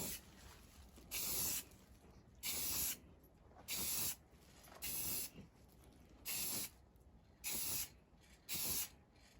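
Door handles for a 2003 Ford 6.0 PowerStroke truck are spray painted outdoors with a color-matched coat, each pass a close loud hiss of about a second, repeated seven times with short quiet gaps between.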